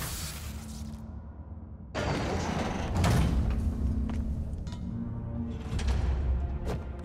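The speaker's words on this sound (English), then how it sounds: "Trap door." In the Marvel's Spider-Man video game, a heavy trap door slides open with a loud grinding scrape that starts abruptly and rumbles on, set against a quieter hum of ambient noise.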